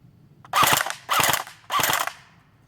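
A Snow Wolf PPSH-41 airsoft gun fires three short full-auto bursts, each a rapid mechanical rattle of shots, close and loud with brief pauses between bursts.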